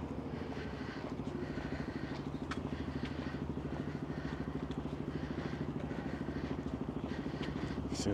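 An ATV carrying a father and child runs nearby on a street, its engine producing a steady, rapid rumbling putter that stays constant and moderately loud throughout, with faint background noise and no talking.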